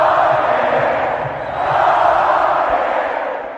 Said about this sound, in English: the whole crowd, chants your name or is so happy to see you